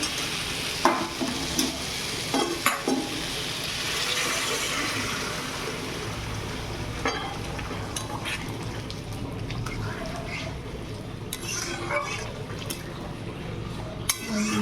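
Spice paste frying in oil in a pan as home cooking, a steady sizzle with stirring scrapes and clinks throughout, with no one speaking.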